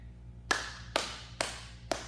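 Medicine ball slammed onto a floor in rotational slams during a pyramid workout, four sharp loud impacts evenly spaced about half a second apart, each with a brief ringing decay.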